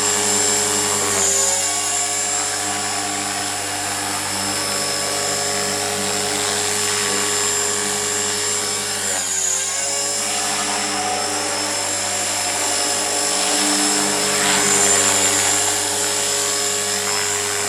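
A radio-controlled helicopter's rotor whines steadily at high speed, loud and close, with a brief dip in pitch partway through and no talking.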